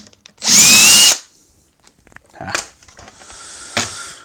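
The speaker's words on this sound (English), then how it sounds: "for drilling metal on the floating in free space" A power drill bites into metal in one loud, close burst of about half a second, followed by quieter handling clatter and a softer second whir near the end.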